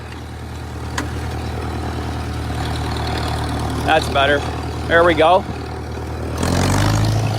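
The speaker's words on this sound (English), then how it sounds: "The engine has a beautiful sound." A Farmall Super MTA tractor engine, the same engine used in a TD6 dozer, idles with a steady, deep, throbbing rumble up close. Someone speaks briefly over it before the engine revs up louder near the end.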